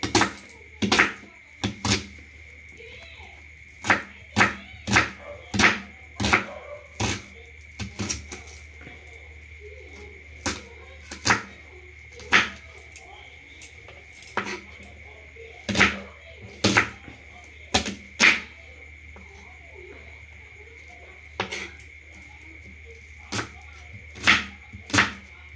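Knife chopping onion on a board for a Bengali salad, a steady run of sharp, close taps in short bursts with brief pauses, over a faint constant hum.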